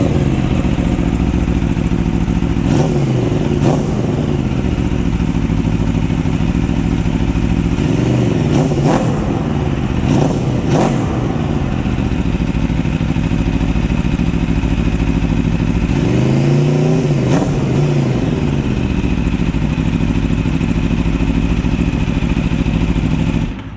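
A 2020 Aprilia RSV4 1100 Factory sportbike with a titanium exhaust idles loudly up close, cut through by several sharp throttle blips that rise and fall quickly, with no one speaking.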